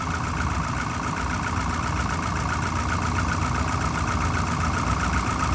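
A truck engine runs steadily at idle up close, a dense, loud mechanical rumble with a rapid, even ticking knock and no pauses, while a misfire is suspected.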